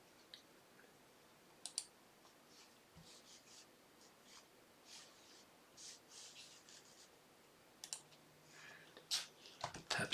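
Sparse computer keyboard typing and mouse clicks sound up close in a quiet room, scattered single taps and short bursts that grow busier toward the end, with no speech.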